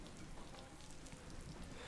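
Rain falling on a barn roof beside calf pens, a faint, steady patter of scattered drops with no talking, heard from inside at a low level for the whole short stretch.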